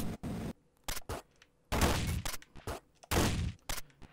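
Shotgun blasts in the video game Downwell: about eight loud, punchy bursts fire in an irregular rhythm, each with a short noisy tail, separated by brief near-silent gaps.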